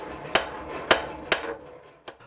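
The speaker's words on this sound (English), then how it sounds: "I start by forging the lower jaw the same way I would for a long, skinny pair of flat bit tongs" A hammer forging the lower jaw of blacksmith tongs, four sharp ringing metal strikes spaced unevenly with the last one quieter, each decaying briefly, close and otherwise quiet.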